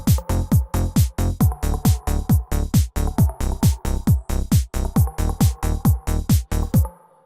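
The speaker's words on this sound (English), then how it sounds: "The bass line is so easy." Progressive electronic bass line of punchy, pitch-dropping synth bass hits in a steady, driving rhythm, loud and alone with no talking, stopping abruptly near the end.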